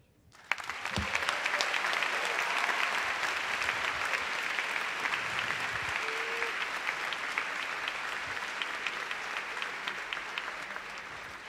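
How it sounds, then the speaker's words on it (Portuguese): A large crowd at an outdoor public rally against lowering the age of criminal responsibility bursts into sustained, dense applause that rises quickly and carries on evenly at a distance, with faint voices mixed in. "Os aplausos falam por si"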